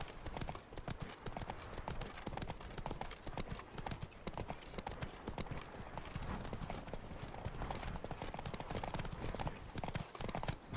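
Hooves of Roach, a horse in The Witcher 3: Wild Hunt video game, clip-clop in a rapid, steady galloping rhythm throughout, loud and close against dense continuous game ambience.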